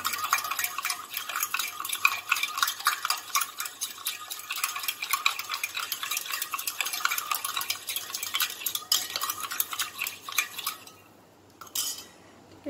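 A spoon stirs bael fruit juice for a sherbet, scraping and clinking steadily against the container for about eleven seconds before stopping, close and clear with no talk.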